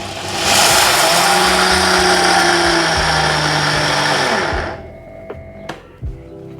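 Blender grinding groundnuts, a loud steady whirring roar that runs for about four seconds, then cuts off and winds down, leaving a few light knocks and clatters.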